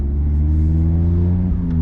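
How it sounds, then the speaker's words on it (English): Race car with a race exhaust idling and revving at an autocross event on a superspeedway, a loud, steady deep close rumble with no talking. "How good does this race exhaust sound?"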